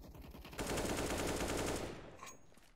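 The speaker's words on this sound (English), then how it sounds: "Gets the headshot onto BDN now" Counter-Strike: Global Offensive match gunfire, a rapid automatic burst of shots lasting over a second, followed by a fading tail and a faint extra shot, at moderate level.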